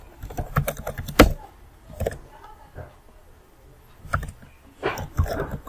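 Typing on a computer keyboard: several bursts of close key clicks separated by pauses, with faint background noise.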